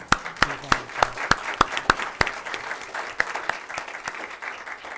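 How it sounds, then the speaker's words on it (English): A crowd applauds with steady, moderately loud clapping that carries on for several seconds, individual claps standing out sharply. "I think we need to give them a round of applause."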